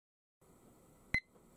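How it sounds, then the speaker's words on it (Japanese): A single short electronic timer beep rings out over a faint low background hum in a glassworking studio, close and clear. "タイマーがスタートしました。"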